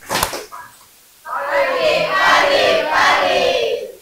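A room full of people claps once together in a single sharp burst on an instructor's cue. The group then calls out loudly in unison.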